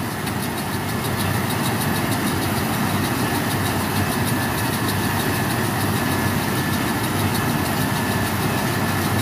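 A tractor pulls a round baler through a thick hay field, giving a loud, steady engine drone with a constant mechanical clatter throughout. No voices are heard over the running machinery.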